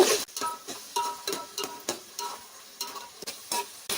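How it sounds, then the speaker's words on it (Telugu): A spoon scrapes through ginger garlic paste frying in a pan for chicken biryani, with steady repeated stirring strokes over a soft, close sizzle. "ఇప్పుడు అల్లం వెల్లుల్లి పేస్ట్ వేసుకోవాలి. ఈ పచ్చి వాసన పోయేదాకా కలుపుకోవాలి."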